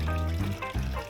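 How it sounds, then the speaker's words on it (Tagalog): Water poured onto a kilo of glutinous rice in a pot, about a liter, making a steady close pouring and filling sound that runs continuously with no talk. "1 kilo po, so 1 liter po na tubig yung nilalagay ko."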